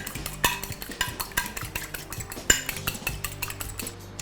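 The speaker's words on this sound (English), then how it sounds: "I'm just going to beat it all in." Rapid rhythmic clinking of a whisk or fork beating eggs in a glass bowl, steady and close, with no talking.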